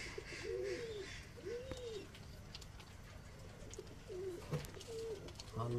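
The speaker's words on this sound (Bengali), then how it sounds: "এ হচ্ছে আন্ধ্রা পায়রা" Andhra pigeons coo inside a breeding loft in several soft, rolling phrases, a few seconds apart, fairly close but quiet, with faint room noise and a light bump near the end.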